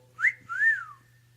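A person whistles a quick two-note call, a short rising chirp followed by a longer falling tone, close and clear over a faint steady hum.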